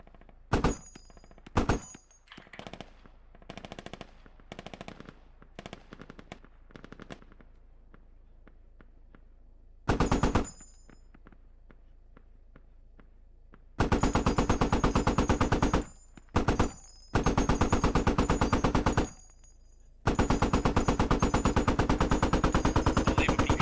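Mounted gun on an MRAP in a video game firing loud rapid bursts, short volleys early then long sustained streams of automatic fire, close and dominant with quieter gaps between.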